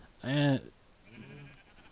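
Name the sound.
sheep bleating in Minecraft video game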